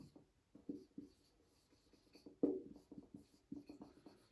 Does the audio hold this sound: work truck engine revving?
no